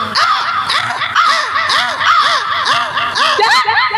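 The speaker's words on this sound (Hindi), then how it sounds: "और देखो डाल पे कौवा बैठा है," Crow cawing from a branch in a forest setting during a folk stage performance, a run of repeated harsh caws in steady rhythm, loud and close, with no other sounds competing.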